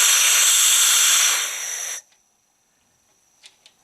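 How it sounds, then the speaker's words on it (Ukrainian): A compressor's air pressure regulator hisses loudly and steadily as it opens, the broadband rush cutting off abruptly after about two seconds, followed by near silence and two faint short clicks. "Прикрутив муфту, хай вона шипить."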